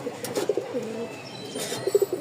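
Soft, low cooing calls from pigeons at a pigeon sale, repeated in short bursts over a faint background hiss, fairly close by.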